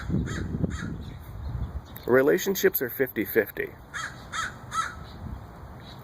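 A crow caws repeatedly in short harsh bursts, close and clear, while a person talks over part of it.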